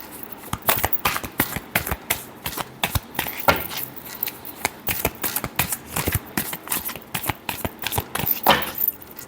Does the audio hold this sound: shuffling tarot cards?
yes